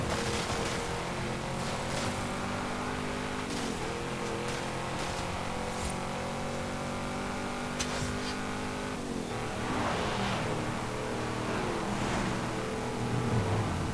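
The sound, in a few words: car engine accelerating in Forza Horizon 5 video game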